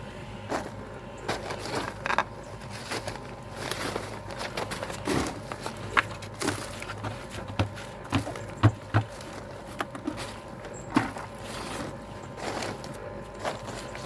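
A Belle cement mixer churns grit mason sand with NHL 3.5 lime mortar, giving a steady rumbling drum with scattered patters and soft crunches of tumbling material throughout.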